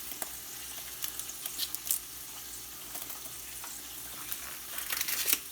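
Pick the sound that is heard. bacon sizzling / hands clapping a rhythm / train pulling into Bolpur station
bacon sizzling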